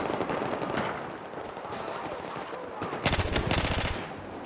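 Gunfire in Battlefield 4 Gunmaster, with a pistol in use: a steady stream of sharp shots builds into a louder, faster cluster of closely spaced cracks near the end.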